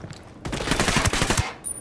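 Rapid gunfire from an assault in Ghost Recon Wildlands rattles out as a dense burst of automatic shots starting after a brief lull, with sharper individual cracks near the end.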